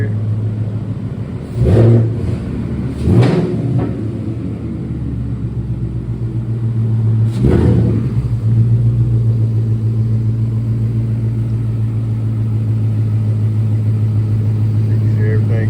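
A 2019 Ford Mustang GT engine, running again after a new clutch install, holds a steady, deep idle rumble close by, with a few brief louder bursts early on and voices faintly over it.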